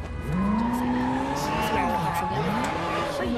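A commandeered motorcycle in the game Sleeping Dogs revving steadily, its engine pitch climbing and dipping in repeated sweeps, loud and continuous throughout.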